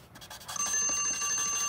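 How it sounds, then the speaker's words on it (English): An alarm rings out, a bright bell-like tone that starts partway through and keeps sounding steadily, close and fairly loud, with no talk over it. "And there's my alarm."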